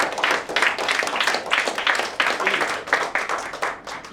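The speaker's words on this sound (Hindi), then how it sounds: "जोरदार तालियां इसके लिए।" Audience clapping in a recruitment training session, a moderate, fairly steady patter of many hands lasting a few seconds with no talk over it.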